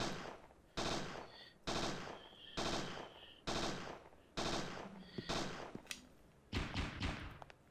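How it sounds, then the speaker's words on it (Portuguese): Bursts of enemy machine-gun fire from the video game Parasite Eve 2, set in a desert: a series of sharp, loud automatic volleys separated by brief pauses, the last ones choppier and broken into shorter rattles. "Ele tá parando de atirar."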